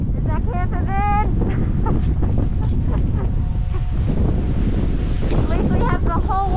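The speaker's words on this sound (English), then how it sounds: "There's a waterfall in the back." A waterfall in the Scottish highlands roars as a constant broadband rush under heavy wind buffeting the microphone in freezing weather, with people talking briefly over it.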